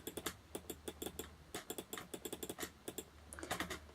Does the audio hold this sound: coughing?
no